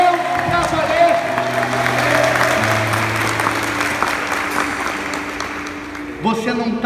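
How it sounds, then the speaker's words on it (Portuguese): Church congregation applauding at a lively service, a dense, fairly loud spread of clapping lasting several seconds over sustained musical tones, with voices talking through it and a brief louder burst near the end. "eu escutei a salva de palmas"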